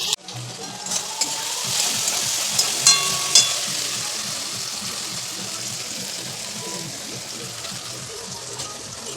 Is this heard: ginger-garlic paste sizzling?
yes